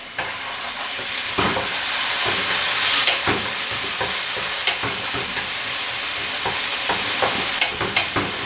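Garlic and onion sauté in a pan for risotto, a steady close sizzle and hiss of frying with stirring scrapes and small clicks throughout, no talk.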